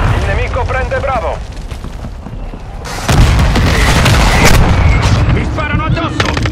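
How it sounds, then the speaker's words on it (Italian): Mortar strikes land in Call of Duty Modern Warfare 2 on the small Shipment map: a rumbling, low battle din with a voice over it, then a heavy, loud burst of booming explosions from the middle onward. "Arriva il nostro attacco con mortaio"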